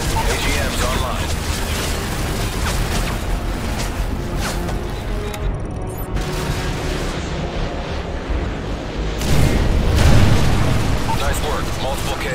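Missile explosions in the video game Call of Duty Modern Warfare 3, with booming blasts and rumbling over dense, noisy combat sound, heaviest near the end, loud throughout.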